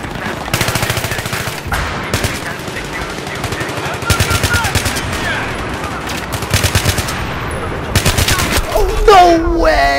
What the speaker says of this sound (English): No way! I shot so many bullets!